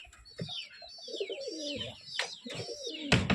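Pigeons in a keeper's loft give low throaty coos beneath a busy layer of high chirps from nearby birds, with a few sharp clicks and a burst of handling noise near the end.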